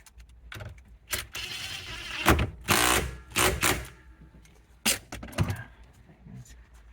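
On the steering column of a 2008-2020 Dodge Grand Caravan, a size 13 bolt is tightened in short bursts of ratcheting and whirring, with clicks and rattles between them, nearby and moderately loud.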